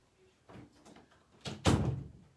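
A room door is pushed shut indoors, with a soft rustle and then a single loud close-range thud that rings briefly, after quieter handling sounds.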